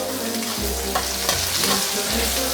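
Pieces of leftover cooked turkey sear in a hot pan, a close steady sizzle with stirring scrapes, over a low pulsing hum from the kitchen.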